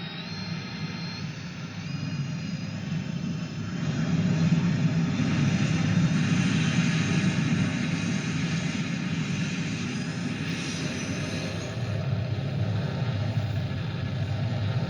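An F18 jet turbine sound played through a Real Sound V4.0 replica car sound system, a steady loud whooshing jet roar that swells a little after a few seconds and then holds at an even level.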